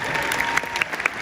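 A brief burst of audience applause, dense steady clapping at moderate loudness with no voices over it.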